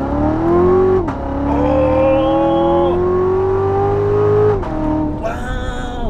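A Corvette Z06, an American sports car with 650 horsepower, accelerates hard on an open stretch of road. The engine roars loudly and rises in pitch through several quick gear changes, each marked by a brief dip in revs.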